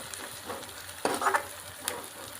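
Onion frying in hot oil, a soft close crackle with a short burst of louder spattering midway.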